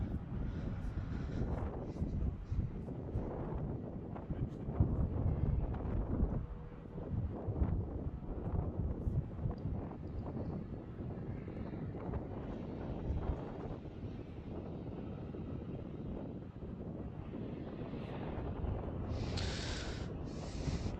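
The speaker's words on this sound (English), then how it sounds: "Wind's starting to pick up a little bit." Steady gusting wind buffets the microphone outdoors at Melbourne Airport, Australia, a continuous broadband rush with occasional thumps and a faint distant aircraft hum, no speech.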